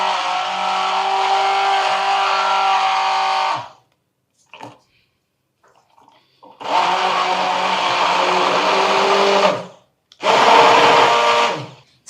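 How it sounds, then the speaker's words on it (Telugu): A blender whirs through an ayurvedic hair serum mixture in three separate bursts, each a loud, steady motor drone lasting a few seconds, with short quiet pauses between them. "సో ఇప్పుడు బ్లెండ్ చేసేస్తున్నారా ఇది?"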